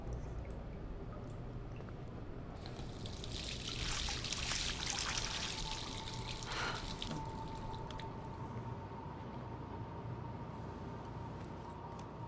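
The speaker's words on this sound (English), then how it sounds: "So let's actually just use the faucet." Water gushes from a faucet in the video game Life Is Strange for several seconds, a bright hissing stream over a low steady hum, then cuts off.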